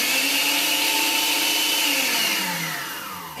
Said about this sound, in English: You simply take 1 packet of this, put it in your food processor, and you can make your own healthy oat flour.